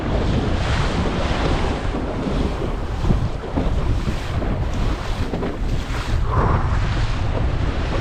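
Strong wind buffets the microphone while waves wash and slap around a small Laguna-Kombi+ sailing dinghy in a freshening breeze, a steady, dense roar that continues without talk.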